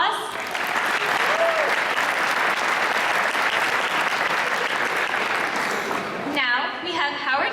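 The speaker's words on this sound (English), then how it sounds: "Thank you, Senator. Could we have another round of applause?" Audience applause for a senator at a Diwali celebration, a full, steady wash of clapping for several seconds that gives way to a voice speaking near the end.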